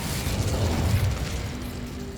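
The Incendio fire spell being cast in Hogwarts Legacy, a single loud whooshing burst with a low rumble that swells early and then fades into a softer crackling tail, with no voices.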